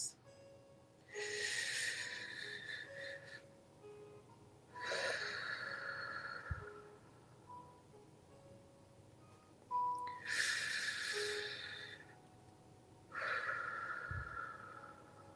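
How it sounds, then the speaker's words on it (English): Four slow, deep breaths in a quiet room, each a broad airy rush lasting about two seconds, spaced a few seconds apart with near-silence between, close and moderately loud. "I want you to take 3 deep breaths."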